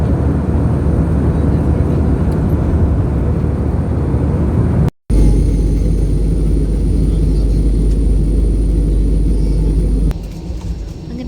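Loud, steady rumble of an airliner cabin as the plane lands in Malaysia, with engine roar filling the whole stretch, a brief dropout midway, and a slight easing of the noise near the end.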